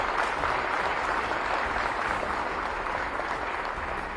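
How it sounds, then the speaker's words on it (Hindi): A gathering of teachers and listeners breaks into continuous clapping at a speech, a full, even roar of hands that holds steady from start to finish with no voices over it. "जोर से ताली हो जाएगी।"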